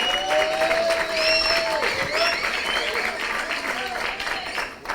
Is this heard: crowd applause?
yes